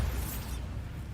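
Bombarda spell explosion in Hogwarts Legacy: a close, heavy blast with a bright hissing burst in the first half second, then a low rumbling tail fading under the game's background.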